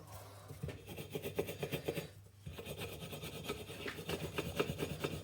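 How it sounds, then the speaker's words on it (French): A small brush scrubs dirt off a rear spring seat of a Jaguar XJ40 during shock absorber work, a faint, close, rhythmic rasping in quick strokes with a brief pause midway. "Petite brosse."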